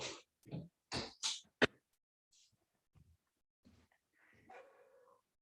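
A dog barks several times close to the microphone in a house during an online meeting, a run of loud sharp barks followed by quieter whimpers and faint movement.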